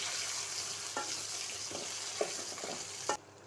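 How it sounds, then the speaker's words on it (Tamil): Radish and coriander leaves stir-fried in a pan give a steady, bright sizzle, broken by several sharp scrapes of a spatula that ends abruptly. "இப்போது கொத்தமல்லி போட்டுக்கலாம்"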